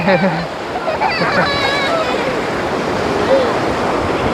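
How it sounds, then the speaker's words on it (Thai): Strong sea waves breaking at Hua Hin beach on the Gulf of Thailand, a continuous rushing surf wash with wind noise, while children's voices and calls sound over it. "คลื่นค่อนข้างแรงนะครับ"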